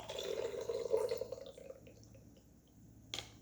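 Homemade hand sanitizer liquid, quite watery, pours steadily for about a second and a half, then tapers off into quiet trickling, with a brief splash near the end.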